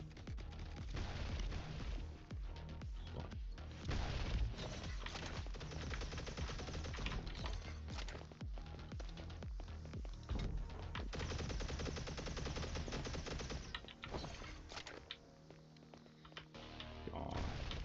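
A turret in the video game XOCIETY fires continuously in a fast, dense rattle of shots, loud and steady for nearly the whole stretch before easing off briefly near the end.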